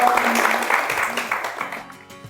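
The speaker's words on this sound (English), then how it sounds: "A bit of a round of applause for your, good high fives" A live audience gives a round of applause after a question-and-answer exchange at a workshop on performance reviews and feedback, a steady wash of clapping that slowly thins out over a couple of seconds.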